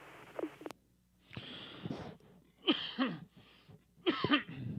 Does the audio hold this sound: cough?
yes